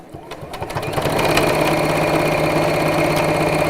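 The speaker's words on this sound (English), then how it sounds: "your sewing machine pushes it around" A sewing machine whirs steadily, starting with a few quick stitches and then running at a constant, fast hum.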